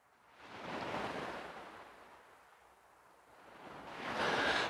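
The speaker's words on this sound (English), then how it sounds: "Oh, it's some big waves." Big sea waves wash in at Hessle Foreshore, two broad rushing swells rising and falling, the second louder and nearer, with no talk over them.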